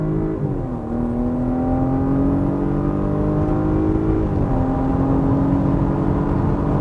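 A Porsche Cayenne Hybrid engine revs steadily upward under hard high-speed acceleration, its pitch climbing, dipping briefly at a gear change, then rising again, loud and close.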